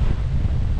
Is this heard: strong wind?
yes